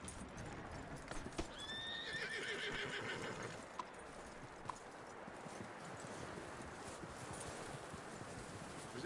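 A horse whinnies with a rising, drawn-out neigh early on while its hooves clop and shuffle nearby, quiet and steady beneath low background rustle.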